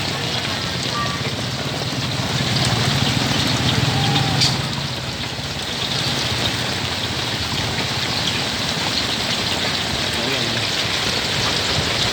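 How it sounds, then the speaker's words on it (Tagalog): Steady, heavy thunderstorm rain pours down in a continuous wash of noise, with a faint voice murmuring briefly underneath. "Malakas na naman ang ulan."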